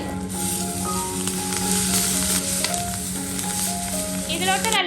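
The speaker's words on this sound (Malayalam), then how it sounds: "ഈ ചട്ടിയിലോട്ട് ഇട്ടിട്ട് ഒന്ന് തിരിച്ചു മറിച്ചൊക്കെ ഇട്ടിട്ട് ഷാലോ ഫ്രൈ ആക്കി എടുക്കുക" Masala eggs shallow-fry in a pan over medium-high flame, a loud continuous sizzle and crackle that holds steady throughout, with faint tonal sounds in the background.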